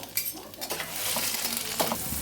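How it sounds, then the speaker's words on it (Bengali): Capsicum and tomato frying gently in ghee in a pan, a soft steady sizzle with a few spatula stirs and scrapes, close and fairly quiet, no talking. "ঘিয়ের মধ্যে ক্যাপসিকাম আর টমেটো হালকা করে ফ্রাই করে নেব।"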